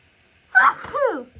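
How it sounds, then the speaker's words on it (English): One short sneeze, close and fairly loud, with a brief breathy tail and no talk. "Oh, I'm going to sneeze."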